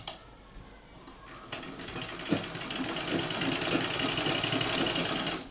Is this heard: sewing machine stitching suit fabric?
yes